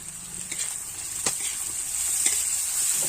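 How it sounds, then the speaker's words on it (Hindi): Onion and tomato frying with turmeric and Kashmiri chilli powder in a pan, a steady close sizzle with faint stirring scrapes and a few brief clicks. "भल भाव भाजी दबा पियाज और टमाटो को"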